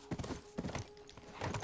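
Horse hooves clip-clop in a quick steady rhythm in the video game The Last of Us, moderately close but fairly quiet, with no talk.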